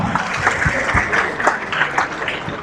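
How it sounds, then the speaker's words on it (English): A round of applause from the crowd at an engineering society induction ceremony in Osogbo, loud and dense clapping held throughout with a few sharper claps standing out. "A round of applause for the chief of staff."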